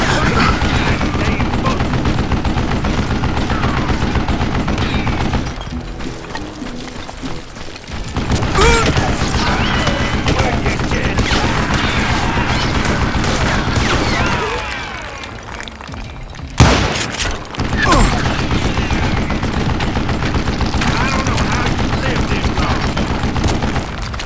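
Gatling gun fire in Call of Juarez Gunslinger, long loud rattling bursts of rapid shots with brief lulls and a sharp gap partway through, mixed with game noise and some speech.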